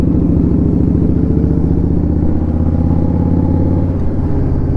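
Indian Scout Bobber motorcycle cruising through the countryside, its engine a steady, loud, close low rumble throughout with a faint rattle over it and no talk.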